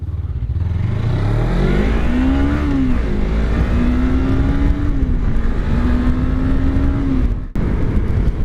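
A Suzuki GSX-R 250 motorcycle engine from 2017 pulls through a loud, steady acceleration, its pitch climbing and holding through a couple of gear changes before a brief cutoff near the end.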